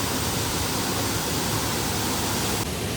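A small hidden waterfall on a monsoon trip near Kumbharte pours in a steady, dense broadband rush of falling water, close and continuous, with no voices.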